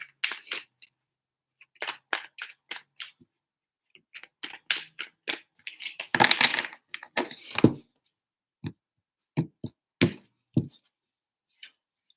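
Tarot cards shuffled by hand up close: clusters of crisp flicking snaps and taps in three bursts, the middle-to-late one swelling into a dense riffling rush, with short quiet gaps between and no voices.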